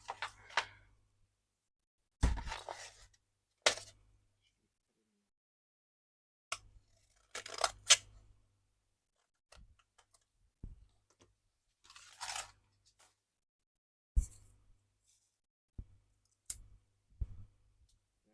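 Scissors cut waterproof sandpaper into small pieces with a series of crisp, crunchy snips in irregular bursts, close and fairly quiet, separated by short pauses.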